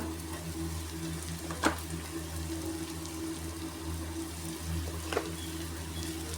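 Masala with turmeric and red chili fries in a pan, a soft continuous sizzle with a low steady hum beneath and a couple of faint scrapes or clinks.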